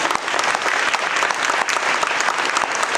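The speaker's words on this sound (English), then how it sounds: "a huge round of applause for Kate." A forum audience gives a guest speaker a short, full burst of applause, dense and even throughout with a faint murmur of crowd beneath.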